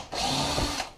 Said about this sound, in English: That was the clutch on my drill.